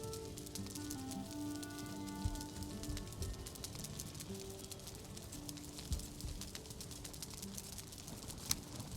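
Rain falls in the video game Valheim, a faint, steady patter of drops on surfaces with occasional louder taps, heard alone with soft background music.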